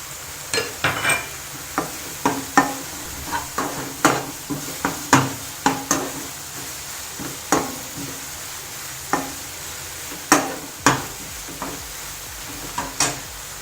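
Onions with a teaspoon of ginger garlic paste fry in a pan for dhaba-style paneer masala, a steady sizzle under repeated sharp scrapes and clinks of a spoon stirring against the metal, close and without talk.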